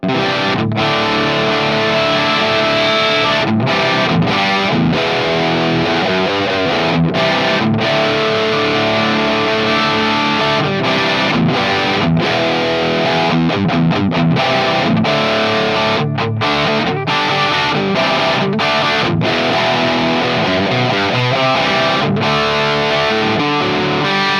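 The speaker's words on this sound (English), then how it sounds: "that's got a really nice, dirty, gritty tone to it" Heavily distorted electric guitar through an EVH 5150 III EL34 tube amp, played loud and continuous, gritty overdriven chords with brief rhythmic stops, no voices.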